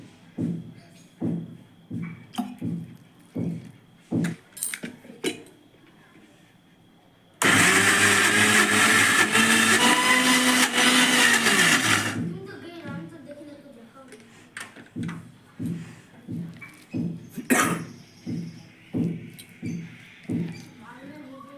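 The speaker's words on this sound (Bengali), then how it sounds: "এখনো মিহিভাবে বাটা হয়নি, তাই আরও একটু বেটে নিই।" An electric blender roars loudly for about four seconds as it grinds a batter of soaked chana and masoor dal with a little water, with someone talking before and after the grinding.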